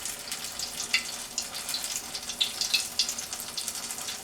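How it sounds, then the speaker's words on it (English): Homemade onion rings frying in hot oil give a steady, bubbling sizzle with scattered sharp crackles and pops, close up and fairly loud, with no one talking. "You guys see how quick they fry."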